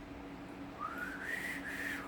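A person whistles a short rising then steady melodic tune, clear and fairly close, over a low steady room hum, with no talking.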